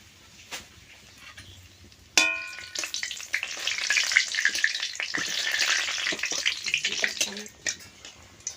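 Dried red chillies and bay leaves dropped into hot pure soybean oil in a kadai for chicken curry. After a quiet start, a sudden loud sizzle bursts out and keeps crackling strongly and close up, with no talking.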